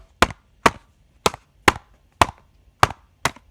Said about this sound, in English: let's have a listen to these toothpaste boxes with all of those processing parts on them now